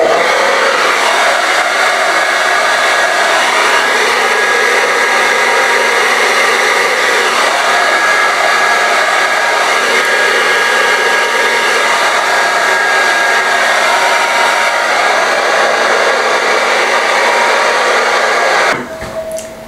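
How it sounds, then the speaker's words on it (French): A hair dryer blows steadily and loudly with a whining hum on 4C hair, running continuously before cutting off abruptly near the end. "Je pourrais réutiliser le sèche-cheveux tout à l'heure."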